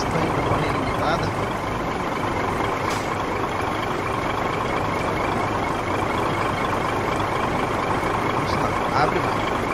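A Scania 111s truck in a truck simulator game drones with a steady, loud engine hum and road rumble that holds constant throughout, with faint clicks over it and a voice talking underneath.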